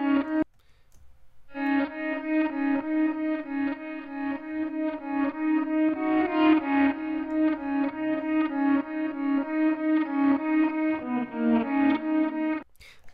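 Processed electric guitar part with distortion and chorus-like effects, a steady strummed rhythm of sustained chords pulsing evenly after a short pause, loud and alone with no talking.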